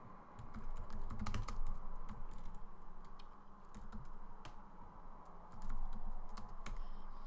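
Continuous clatter of computer keyboard typing while coding, a steady run of close, crisp key clicks with brief pauses, no talking.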